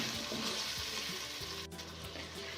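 Crushed chili masala with ground coriander fries in a pan with a little water, a loud continuous sizzle with scraping stir strokes close by.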